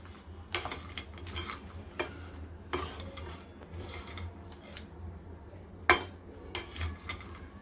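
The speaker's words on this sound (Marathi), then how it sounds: "आता आपण खारीक भाजून घेऊया गरम पॅनमध्ये" Dry dates (kharik) are dry-roasted in a hot pan without ghee, with scattered scraping and clinking of a spoon against the pan, quiet with sharp intermittent taps.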